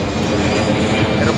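Airplane passing overhead above a busy Pasay City street, a loud, steady broadband engine roar filling the whole moment.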